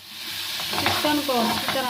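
Chicken sizzling in a spiced pan while a spatula stirs and scrapes through it, the frying hiss steady and close with clattering stir strokes building over two seconds.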